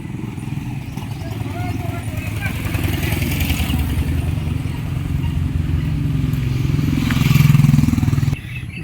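A motorcycle engine runs close by at a steady, rough idle-like rumble, swelling louder briefly near the end, while people talk over it.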